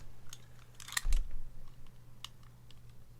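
Small plastic clicks and a sharp snap come from a Zilent keyboard switch being pried open, close and quiet, with a brief low thump after the snap and a couple of faint ticks later.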